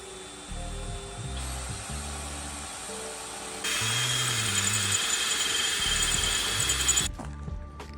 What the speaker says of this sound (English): So we are drilling it right now.